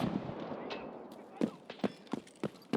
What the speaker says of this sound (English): I hear the turret popping off.